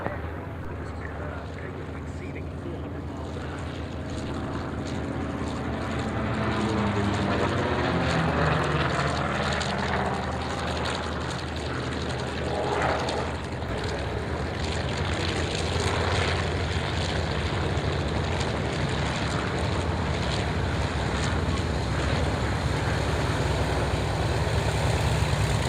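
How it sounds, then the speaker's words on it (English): Douglas Skyraider propeller aircraft taxi in at Duxford airfield, a loud, steady piston-engine drone with throbbing prop beat rolling on continuously, with radio chatter faintly underneath. "Sky Raiders taxiing in."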